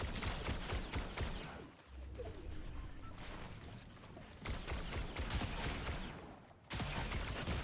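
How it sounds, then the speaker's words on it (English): Gunfire in the Fortnite video game, a dense rattle of rapid shots and impacts in bursts separated by brief lulls, loud and close with no talking. "He no-scoped me with that gun?"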